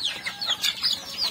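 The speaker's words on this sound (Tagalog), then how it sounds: "Marami na mga dumalagang manok." Young pullet hens on a rural Philippine farm at feeding time, giving repeated short, high, chirpy calls close by with no talk.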